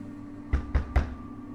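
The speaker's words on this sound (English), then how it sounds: "The knock came again, a little louder this time." Three firm knocks land on a door in quick, even succession, close and hollow against a quiet room hum.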